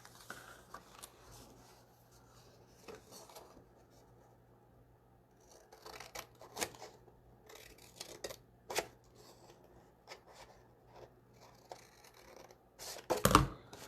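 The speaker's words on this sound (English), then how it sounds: "next I'm going to cut from the bottom to the score line on the last 3 sections" Scissors cutting paper while making an Easter treat box, faint scattered snips and paper rustles over quiet room tone, louder handling noises near the end.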